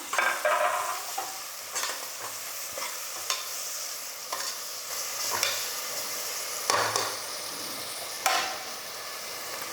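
Tomato with green and dried chillies sautéing in a pan, a continuous soft sizzle broken by repeated spatula stirs and scrapes at irregular intervals, close and fairly loud.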